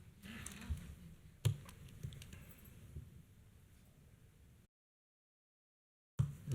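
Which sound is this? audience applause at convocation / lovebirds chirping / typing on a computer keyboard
typing on a computer keyboard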